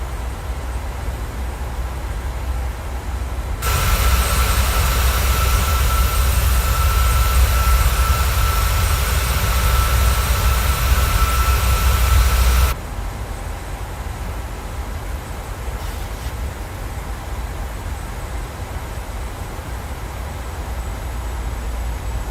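PMDG 737-700 jet engines climbing after takeoff in a flight simulator game, a steady loud roar that swells louder for several seconds, then drops back to a lower continuous drone.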